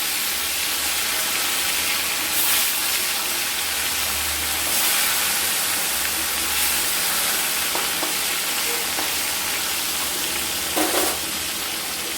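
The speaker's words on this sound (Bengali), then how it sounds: "এবার আমরা মাছগুলো ভেজে নেব, একদম দেশি কাতল এটা।" Pieces of local katla fish fry in hot oil in a wok, a loud continuous hissing sizzle with occasional soft crackles and utensil taps.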